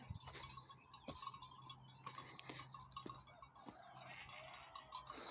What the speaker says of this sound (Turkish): Arka taraftan da bir tane kuzumuz me me meleyip duruyor.